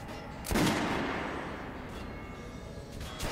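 Gunfire at a shooting range in the video game Metro: Last Light, one sharp report followed by a long decaying tail, then a fainter shot near the end.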